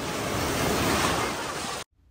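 Sea waves surging onto a beach, a loud continuous rush of surf with wind noise, close to the microphone, cutting off abruptly near the end.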